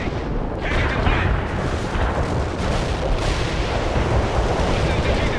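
Explosions from a helicopter flyby attack in the war strategy game World in Conflict form a dense, continuous barrage of booms and rumbling blasts, loud and steady throughout.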